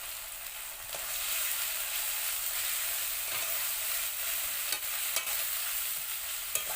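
Onion paste and garlic paste fry in a hot pan for a village-style jackfruit curry, giving a steady close sizzle with a few sharp scrape-and-stir clicks from a spatula and no talking.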